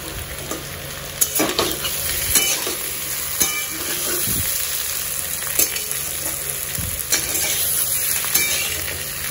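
Slightly overcooked potatoes fry with curry leaves in a pan, stirred slowly with periodic spatula scrapes and clicks over a constant close-up sizzle.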